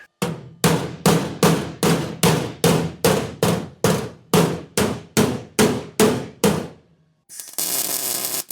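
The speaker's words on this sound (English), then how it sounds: "probably gonna get the big hammer, club that into shape." A big hammer clangs again and again against sheet-metal firewall panels on a 1937 Lincoln Zephyr during fabrication. About fourteen loud, evenly spaced ringing blows land close up, followed by a short burst of hissing noise.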